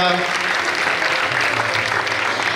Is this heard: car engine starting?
no